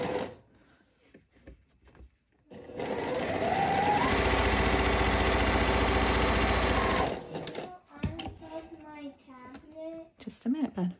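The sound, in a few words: sewing machine stitching a French seam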